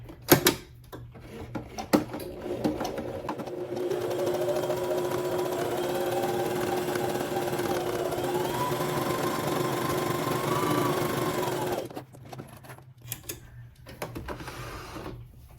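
A home sewing machine stitches a seam on a misses' jumpsuit, a few handling clicks first, then a steady mechanical hum and rapid needle chatter for about eight seconds before it stops.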